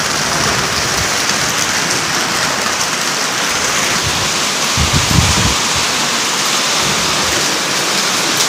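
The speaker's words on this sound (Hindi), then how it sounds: "इतनी तेज बारिश है" A steady roar of heavy rainfall, thick and unbroken, drumming close by with a few slightly louder splashes partway through.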